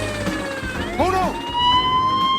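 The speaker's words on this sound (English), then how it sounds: "I was wondering if you could turn off that siren." A wailing emergency siren in a Garfield cartoon rises and falls in loud, sweeping tones, running continuously with steady background noise.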